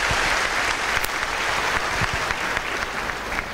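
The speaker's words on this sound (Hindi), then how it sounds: "मैं चाहूँगा कि हम सब उनका एक बार जोरदार तालियों से स्वागत करें" An audience at a Delhi government school event gives loud, sustained applause to welcome the education minister. It is a steady, dense clapping from many hands throughout, close and full, with no voices over it.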